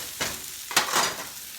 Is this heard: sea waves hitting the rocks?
no